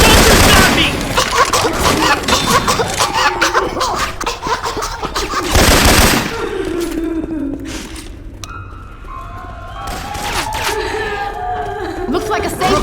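Gunfire in the video game Left 4 Dead 2, with weapons swapped for Syphon Filter sound effects: loud, dense bursts of rapid shots and sharp cracks, a heavy blast near six seconds, then sparser shots amid game sounds and voices.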